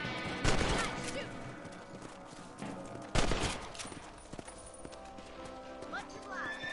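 Gunshots fire at rabbits in the Western video game Red Dead Redemption, two sharp loud reports a few seconds apart ringing over faint game ambience and light movement noise.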